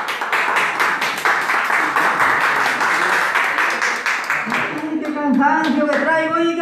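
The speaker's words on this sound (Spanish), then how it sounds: "Démosle un caluroso aplauso" An audience at a tribute event in Madrid gives warm, dense applause that runs steadily for several seconds before fading as a voice and music take over.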